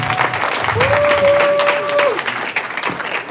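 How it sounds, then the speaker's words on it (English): An audience at a Black History honors event claps in a sustained round of applause, full and steady, with a voice briefly audible over the clapping. "Give AP another round of applause."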